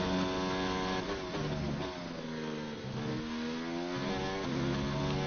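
An F1 car in a racing game runs down the main straight at the Russian Grand Prix, its loud high-revving engine climbing through gears with rising whines broken by quick shift dips, steady and close with no talking.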